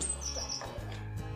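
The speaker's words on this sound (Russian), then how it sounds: "И синичка летает, весну зовет." Brief, faint high chirps from a tit are heard outdoors in winter, a couple of thin calls over a low background hum.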